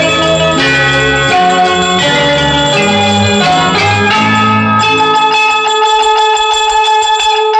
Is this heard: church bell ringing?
yes